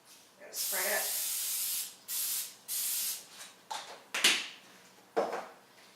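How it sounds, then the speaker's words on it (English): Olive oil cooking spray hisses onto a casserole pan in a series of short bursts, several close, sharp sprays with brief gaps and a little clatter in between. "Got a casserole pan here that I'm going to spray with a little"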